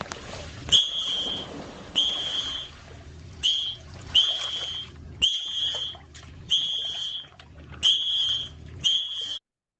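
An AI-generated recreation of the Titanic scene of Rose blowing a whistle: about eight sharp, urgent whistle bursts in quick succession over a noisy wash of water, close and fairly loud.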